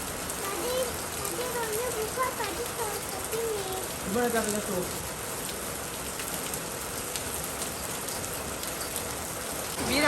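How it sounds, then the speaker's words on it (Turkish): Heavy rain suddenly falling, a dense continuous hiss of drops on surfaces, loud and close, with children's voices and talk underneath. "anda müthiş bir yağmur yağdı"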